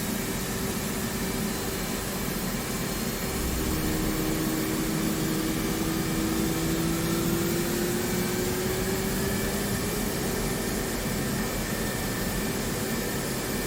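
An F-18 jet engine spools up during a cold start in DCS, a steady broadband roar with a rising whine that slowly climbs in pitch, continuous and fairly loud.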